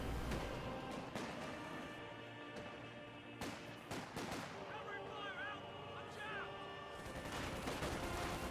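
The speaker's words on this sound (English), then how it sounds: "Grenadiers here receiving way too much suppression fire." Suppression gunfire in the Company of Heroes 2 video game forms a dense battle mix of overlapping rifle and machine-gun bursts, with sharp cracks near the middle and near the end over constant rumbling combat ambience.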